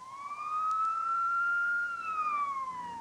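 A single rising and falling wail from an ambulance siren in Midtown Camden as it answers an emergency call, loud and fairly close over a low background hum, with no voices.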